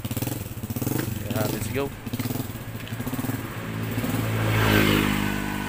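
A motorcycle engine chugs nearby in a fast, even pulse, swelling into a louder rev toward the end while a voice speaks over it.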